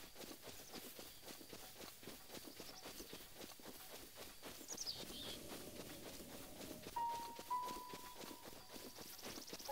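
Link runs across open ground in Zelda Breath of the Wild, a quick, steady patter of soft footsteps close by with faint tones and ambient game sounds underneath, no talking.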